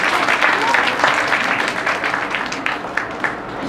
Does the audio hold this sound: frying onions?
no